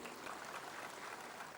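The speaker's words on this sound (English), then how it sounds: "A big applause for him." Audience at a university gathering applauds a newly welcomed Vice Chancellor, a steady wash of clapping filling the short moment alone at moderate level.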